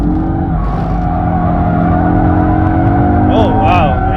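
Audi RS3, the new compact RS model, driven hard through a corner, with a steady loud engine drone and rising harmonic pitch throughout, continuous and close.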